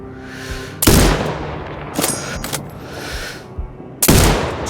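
Sniper rifle fire in the video game Sniper Ghost Warrior Contracts 2: three loud, close booming shots spaced a second or two apart, each with a brief rumbling tail, no speech.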